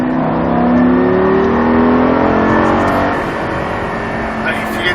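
Lamborghini Gallardo engine accelerating on a racetrack during a driving course, a loud, steady drone that rises in pitch, running the whole time beneath an instructor's voice.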